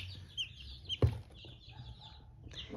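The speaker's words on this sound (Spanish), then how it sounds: "Y lo mejor de todo es que los pollitos están comiendo" Young chickens give soft cheeps and clucks while feeding, with one sharp knock partway through, heard fairly close in a quiet coop with no talking.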